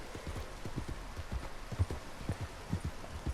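Horse hooves clip-clopping in Red Dead Redemption 2 arriving in the town of Rhodes, Lemoyne: a brisk irregular run of soft thuds over a low ambient bed, moderately close, with no talk.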